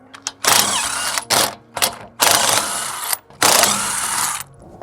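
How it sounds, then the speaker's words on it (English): Lug nuts being loosened on a Jaguar XJR6/X300 wheel with a ratchet: several loud, close mechanical bursts of rapid ratcheting, each lasting up to about a second, separated by short gaps. "Loosen those lug nuts."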